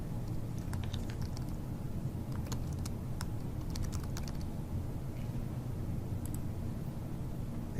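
Light, uneven taps on a computer keyboard as a name is entered, faint clicks in short clusters over a steady low hum, with no one talking.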